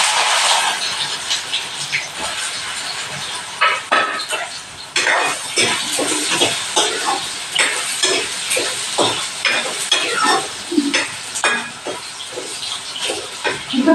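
Soya chunks frying in hot oil in a home kitchen pan, a loud steady sizzle broken by repeated scraping stirs and spattering pops.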